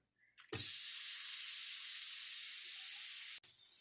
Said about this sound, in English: Now we're going to add our coated shrimp to the pan.